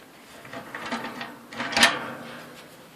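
The small metal firebox door of a mine-type boiler with water-cooled grates rattles and clanks as it is handled, with two swells of scraping metallic noise over a few seconds.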